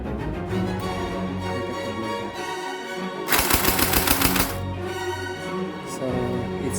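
An M4S gel blaster blowback hard plastic toy gun fires a full-auto burst, a loud rapid rattling volley of clacks in the middle, with mechanical clicking and handling noise before and after.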